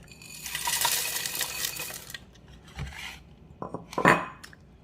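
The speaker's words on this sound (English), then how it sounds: "All right, so I would pour it in my blender." Dry cereal pours in a dense rattling rush into a blender jar, then tapers off into a few scattered clinks and taps.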